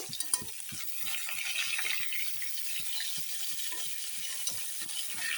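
Rohu fish is turned over in a frying pan as a spatula makes a series of light scraping taps against a constant hiss of sizzling oil.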